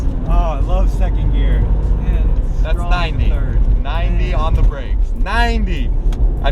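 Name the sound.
Porsche turbo engine accelerating hard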